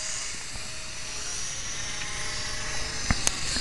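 Radio-controlled park flyer model airplane flying nearby, a steady high electric motor whine holding constant throughout, with a couple of brief clicks near the end.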